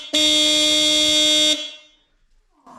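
A Moto dual-track horn fitted to a Harley Davidson Triglide blasts one steady, loud, close tone for about a second and a half, then cuts off and fades.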